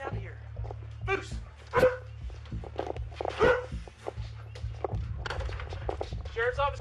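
A police K9 dog barks and yips repeatedly during an arrest by a county sheriff's office, mixed with loud shouting voices and scuffling footsteps.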